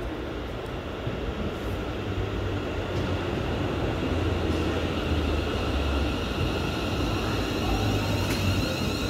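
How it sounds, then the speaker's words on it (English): A ScotRail Class 380 electric train rolls into Paisley Gilmour Street station on a Gourock service, a steady broad rumble with rail hum that holds loud and continuous throughout, with no voices. "Approaching now is a 380 ScotRail service to Gourock."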